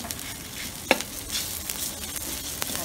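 Red curry paste and pork neck stir-frying in a pan, a steady close sizzle with scraping stirs and one sharp clack against the metal.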